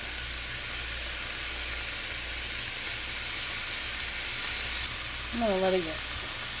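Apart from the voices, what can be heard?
food searing in a pan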